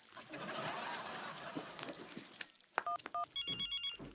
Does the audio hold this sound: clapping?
no